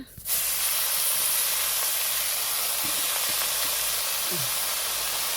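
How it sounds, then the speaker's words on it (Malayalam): Coconut oil is poured into a hot pan while cooking a curry leaf and spinach stir-fry. A steady, bright sizzling hiss begins almost at once and holds evenly, close and fairly loud. "അപ്പോൾ നമ്മൾ വെളിച്ചെണ്ണ ഒഴിച്ച് കൊടുക്കുക"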